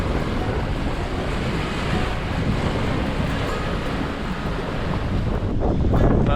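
Rough open ocean on a boat crossing in 25 to 30 knot winds: constant roaring wind buffeting and rushing waves, loud and unbroken.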